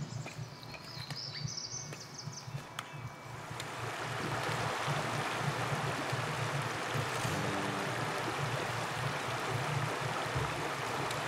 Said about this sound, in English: With the sound of rushing water.